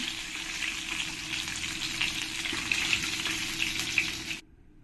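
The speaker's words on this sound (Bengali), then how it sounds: "দেখো আমার মাছের মাথাগুলো ভালো করে আমি লাল লাল করে ভেজে নিয়েছি।" Katla fish heads fry in hot oil in a pan, a steady close sizzle with faint crackles that runs for over four seconds and then cuts off suddenly.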